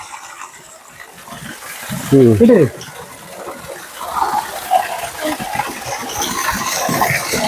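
Spring water gushes out of a hole in the Sharavathi forest, a soft, steady splashing flow that builds after a few seconds and continues while a person talks nearby.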